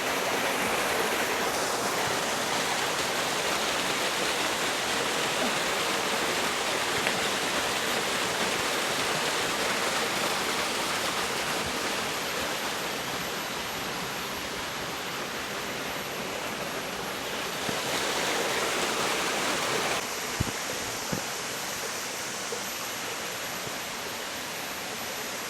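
Datu Ampunan Falls in Laak, Davao de Oro pours with strong, heavy water, a steady dense roar of rushing flow that holds close and constant with no voices over it.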